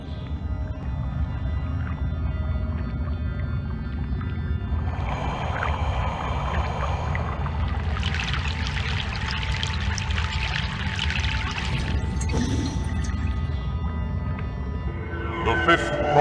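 River crossing by boat in Broken Sword 3: The Sleeping Dragon, set in Egypt: continuous low water churning and pouring surges that build mid-crossing, with a soft musical ambience and no voices.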